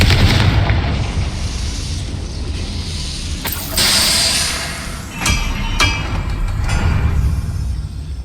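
Confringo spell explosion in the video game Hogwarts Legacy: a loud continuous rumbling blast with a brighter burst midway and a few sharp cracks later, heavy low-end roar throughout, no talk.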